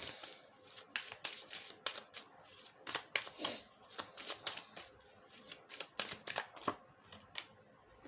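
Playing cards shuffled and drawn from a deck during a tarot-style reading, a rapid run of crisp riffling snaps and flicks close by, steady through the clip with no talking.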